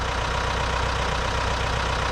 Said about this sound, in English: now I'm gonna move the tractor head, raise it or lower it down a little bit